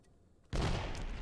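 A grenade blast in the tactical shooter Squad, one sudden loud boom after a half-second of quiet, followed by a sustained rumbling roar that fills the rest of the moment.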